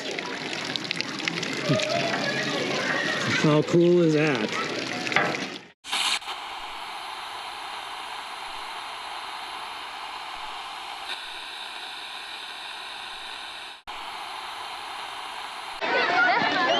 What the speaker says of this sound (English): they do have a pretty cool water pump, and it looks pretty durable